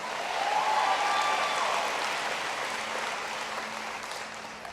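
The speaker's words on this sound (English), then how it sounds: "Give them a big round of applause." A town hall audience applauds, a dense wash of clapping that swells quickly and then slowly tapers over several seconds.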